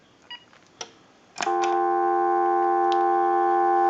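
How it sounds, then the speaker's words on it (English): A couple of faint clicks, then a steady dial tone on a Uniden EX965 cordless telephone starts and holds continuously, clear and unchanging. "give you dial tone one more time"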